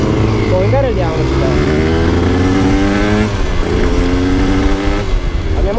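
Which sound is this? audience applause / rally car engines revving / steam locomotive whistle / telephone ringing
rally car engines revving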